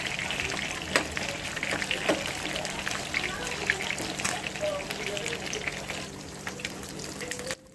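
Pieces of seelavathi fish frying in a pan for pickle, a steady close sizzle with scattered pops and clicks throughout.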